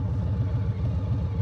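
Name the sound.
Harley-Davidson Low Rider ST engine idling at traffic light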